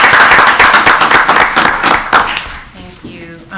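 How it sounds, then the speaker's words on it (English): Loud, dense applause from an audience at a town council meeting honoring award nominees, sustained for a few seconds before dying away as a voice begins. "So if we want to give them a round of applause"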